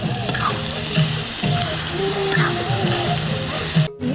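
Potatoes fry in a pan with meat, giving a steady crackling sizzle broken by scraping stir strokes, close and fairly loud, with a voice talking over parts of it.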